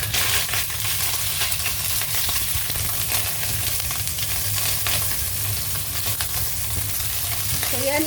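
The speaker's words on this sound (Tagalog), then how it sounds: "ngayon ay magprito na tayo ng ating sahog para sa ating fried rice" Meat sizzles and fries in a pan as ingredients for fried rice, a steady, close, crackling hiss with occasional stirring scrapes and no talking.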